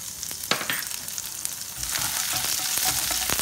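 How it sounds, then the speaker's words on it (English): Chopped garlic hits hot oil and frying starts at once, bursting into a crackling sizzle with a few sharp spatters and stirring clicks, then growing into a fuller, steady hiss. "Our oil is nicely heated up, so add 1 tablespoon of this is chopped garlic or lasun."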